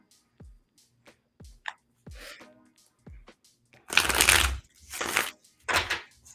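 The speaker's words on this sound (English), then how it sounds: "Let me give this a nice shuffle real quick." A tarot card deck being shuffled, with a series of short crisp card snaps and riffles followed by several longer, louder bursts of cards riffling together near the listener. Nobody speaks.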